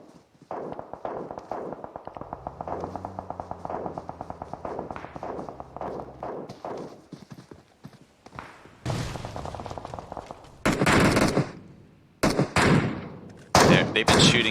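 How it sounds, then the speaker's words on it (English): Gunfire in a competitive team shooter match, bursts of shots and sharp cracks coming in irregular volleys, louder and denser toward the end, with quieter rhythmic footsteps and muffled thuds between them. "They've been shooting at that smoke for a while now."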